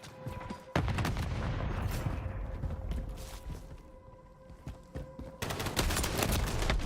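Rapid bursts of automatic gunfire ring out in a Modern Warfare III multiplayer match, sharp repeated shots in clusters at the start and end with quieter mechanical clanks and rattles between.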